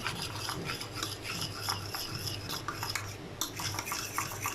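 Chicken marinade with coriander being stirred and mixed in a bowl, a continuous close scraping and rubbing of a utensil against the bowl, with occasional light clinks and no voices.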